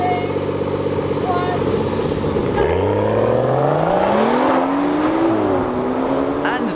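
Two hot hatches, a manual rear-wheel-drive BMW M140i among them, launch in a drag race, engines rising through rising pitch sweeps as they accelerate away loudly, with a commentator's voice running over the top.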